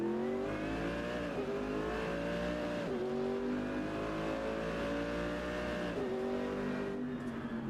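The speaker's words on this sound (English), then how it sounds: "God, this AMG GT3 sounds so good." A Mercedes AMG GT3 race car in iRacing revs hard with a loud, close engine note, climbing through the gears in repeated rising sweeps with brief drops at each shift and no talk over it.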